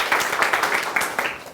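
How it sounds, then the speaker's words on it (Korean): A high-school class applauds a student's presentation, a short burst of steady group clapping in a classroom. "박수 주세요"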